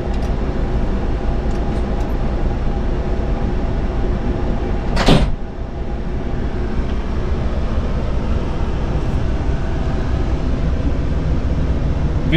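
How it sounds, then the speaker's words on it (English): Doors of a Plaxton Elite coach open in one brief pneumatic burst partway through, heard over a constant loud idling engine drone inside the vehicle. "If you want both doors open, you need to press"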